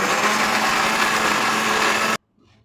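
A kitchen mixer grinder whirs loudly and steadily as it grinds spices with water into a paste, then cuts off abruptly, leaving near silence.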